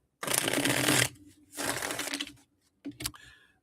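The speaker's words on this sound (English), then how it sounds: "let me shuffle up here." A deck of cards riffled twice in long crisp bursts, then a couple of quick taps as the cards are squared up, close and clear.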